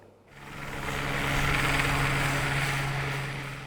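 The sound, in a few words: water-bombing helicopter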